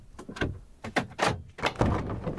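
A van door is handled and opened, giving a series of loud clunks, latch clicks and thuds at close range.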